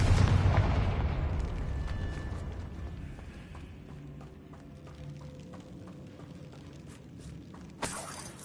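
A Confringo fire spell in the Hogwarts Legacy video game detonates with a loud, deep boom at the start, then rumbles and crackles as the blast decays, with a short sharp burst near the end.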